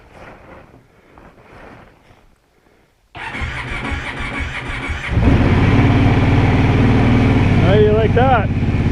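A Kawasaki Brute Force 750 ATV fires up from cold in snowy conditions, cranking then catching into a loud, steady idle that rises and holds strong, with people talking briefly beforehand.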